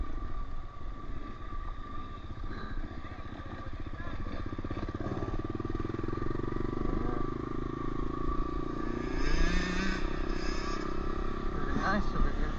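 A Honda CRF125F four-stroke dirt bike riding along a canal, its engine droning steadily and close throughout, rising in pitch toward the end, with wind and rider chatter mixed underneath.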